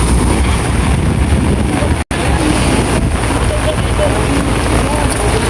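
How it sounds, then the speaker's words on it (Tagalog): Heavy rain pours down in stormy weather on a trip to buy fish, a dense, steady hiss with gusty rumble throughout and one brief dropout near the two-second mark. "Sobrang lakas ng ulan."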